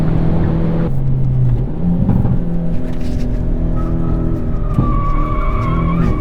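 Tires on a 2023 Hyundai Elantra N squeal through lift-off oversteer, a loud, wavering screech over the steady engine drone, fading and rising over several seconds.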